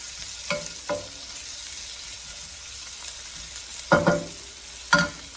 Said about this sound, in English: add in the garlic. And fry that just for a little bit.